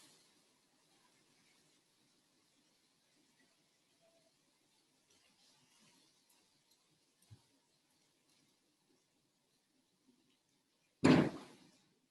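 A single loud, brief door closing near the end, a sharp broadband thud after a long stretch of near-quiet room tone, with only a faint small click earlier; closed during a rainstorm.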